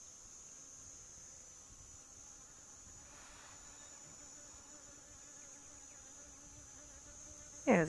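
A small bee buzzes near the microphone outdoors at dusk, a faint steady drone under a thin high hiss, ending in a short louder rustle.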